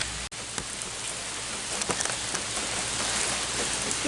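Light rain falling as a steady soft patter of drops, fairly near, with a brief dropout near the start.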